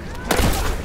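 Gunfire in The Last of Us Remastered during a dam fight: a single loud, close shot bursting out of a steady background hum, with a short booming tail.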